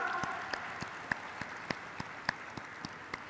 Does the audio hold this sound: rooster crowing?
no